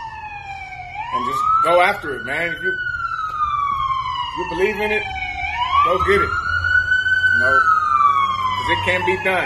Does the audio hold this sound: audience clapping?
no